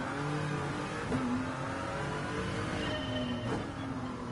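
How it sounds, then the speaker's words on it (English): A diesel car engine in the GT Sport racing game revs steadily, with a droning mid-pitched tone that rises briefly in a few quick blips over a constant background hum, and no voices. "this sounds very different compared to the Audi. I mean, it's a diesel again."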